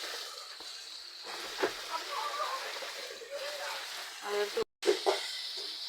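Soya chunks frying with chili powder in a pan while being sautéed, a soft steady sizzle with occasional stirring scrapes, quiet and close, with a person talking over it.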